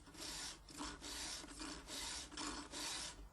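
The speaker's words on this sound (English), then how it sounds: "File all the chain cutters to exactly the same length to ensure smooth, even cutting." A hand file rasping across chainsaw chain cutters during sharpening, several even back-and-forth strokes in a steady rhythm, close and clear with no talk.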